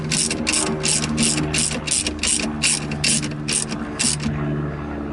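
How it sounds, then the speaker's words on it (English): A ratchet clicks in a fast, even run of about a dozen loud, close strokes as it tightens the steering wheel nut on a 1967 GTO, with a low mechanical hum underneath. "now we're ready to tighten the steering wheel back in"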